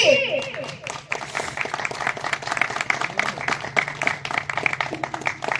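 A group claps loudly at a small gathering. Dense, sustained applause runs for several seconds, with a voice speaking over it at the start.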